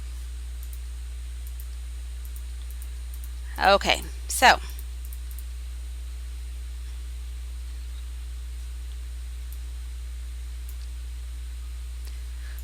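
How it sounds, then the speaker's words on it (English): Two quick pairs of mouse clicks while moving a character around in the Shadowrun Returns video game, crisp and close against a faint steady hum, with a brief spoken word. "you move by clicking where you want to go"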